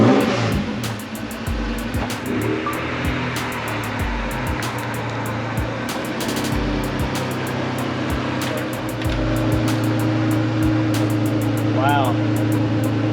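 A red Acura NSX rumbles at idle and pulls slowly out of a collector's garage, a steady low engine drone with some revving, accompanied by scattered clicks and a voice talking nearby.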